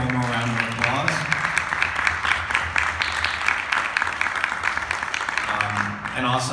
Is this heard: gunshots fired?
no